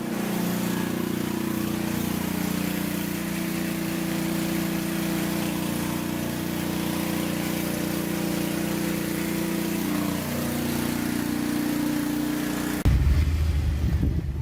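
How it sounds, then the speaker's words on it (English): A power washer runs with a steady, loud engine drone, used in place of sandpaper to strip a surface, before cutting off abruptly near the end. "Who needs sandpaper when you got a power washer?"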